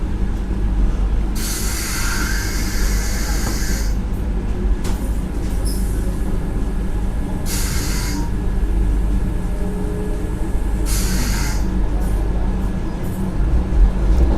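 Inside the Secunderabad–Tirupati Vande Bharat Express running at speed, a constant deep rumble fills the carriage, broken by a few loud bursts of airy hiss.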